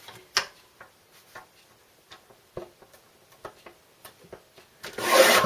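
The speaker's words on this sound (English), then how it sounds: "so I'm going to just trim that down slightly too" Trimming the white borders off an A4 photo print, heard as sparse light ticks and scrapes of the cutter along paper, close and quiet, ending in a louder brief rasping swipe.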